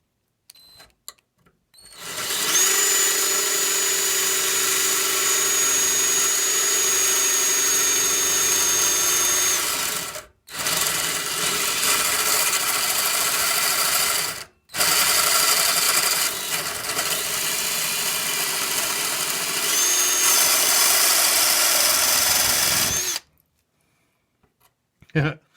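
A power drill runs in long continuous bursts on a clamped workpiece while fitting windlace to a 1947 GMC truck cab, a steady high whine with brief stops between runs, loud and close.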